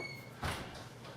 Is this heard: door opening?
yes